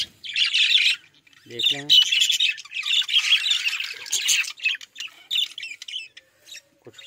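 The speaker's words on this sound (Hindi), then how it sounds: "बैठें खुश खुश, बैठें चहचहा रहे हैं, अपनी मस्तियों में बैठे हुए हैं।" Budgies in a group cage chirp and squawk in close, bright bursts that come and go, while a person speaks a few words in between.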